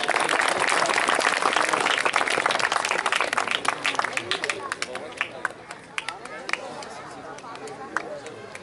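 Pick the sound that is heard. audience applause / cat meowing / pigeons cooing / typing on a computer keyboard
audience applause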